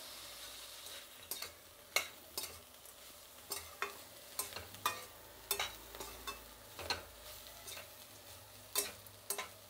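Grated coconut frying and being stirred in a pan for chutney, with rhythmic scraping stirs about every half second over a soft steady sizzle, close and moderately quiet, no talking.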